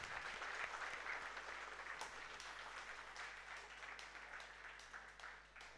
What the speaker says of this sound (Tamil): இந்த எல்லா வாலண்டியர்ஸ்க்கும் ஒரு மிகப்பெரிய ஒரு கைத்தட்டல் கொடுக்கும்.